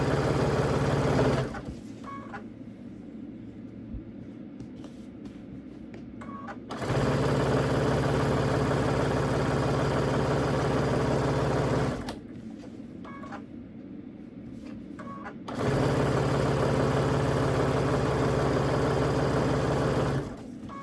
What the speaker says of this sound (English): I'm going to come on over here and sew where the top is. And I'm going to, again, back tack.